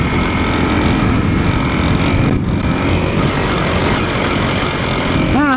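A dual sport motorcycle engine drones steadily and loudly while riding through desert sand among Joshua trees, a continuous close-up roar with rushing wind noise and no talking.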